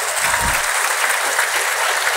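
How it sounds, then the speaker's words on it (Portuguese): Warm crowd applause during a Catholic mass for pilgrims honouring Padre Cícero, a loud continuous roar of many clapping hands filling the space, with a low murmur briefly underneath at the start. "A ele, nossa gratidão, com uma calorosa salva de palmas"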